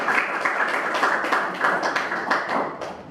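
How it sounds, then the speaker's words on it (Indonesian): A class of students claps together in a school classroom, a steady patter of many hands at moderate distance that continues for about three seconds. "sekali lagi tepuk tangan dulu"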